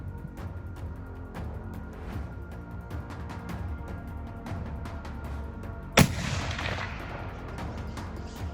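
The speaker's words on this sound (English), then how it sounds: "It was a longer shot than what I'm used to, so I asked my partner to drop the camera and spot the buck as I took the shot." A single loud rifle shot fired at a fallow deer buck while hunting in a New South Wales state forest, a sharp crack at the end of quiet outdoor ambience, followed by a fading rumble.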